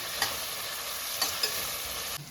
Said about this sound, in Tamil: இப்போ இந்த தக்காளி வதங்கிறது